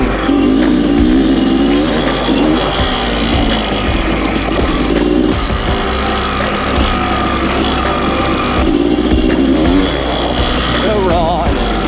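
A 2001 Honda CR500 and a 2024 Honda CRF450R dirt bike roar loudly and continuously close by, the engine revving hard through repeated rising and falling pulls.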